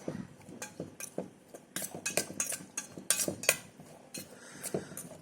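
A spoon mixes Ooty sweet corn in a bowl, giving close, irregular clinks and scrapes of metal on the dish in quick bursts, with quieter gaps between them and no talk.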